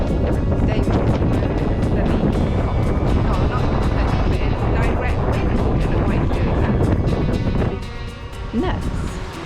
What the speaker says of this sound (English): walking to the end of the wooden pier gave us a great view of the ferry leaving